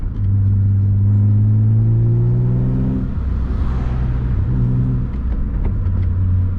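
BMW E36 M3 with a Dinan short-throw shifter and a lighter flywheel, heard from inside while driving in traffic: a loud, steady engine drone with pitch rising through revs, a brief drop around a shift, then pulling again.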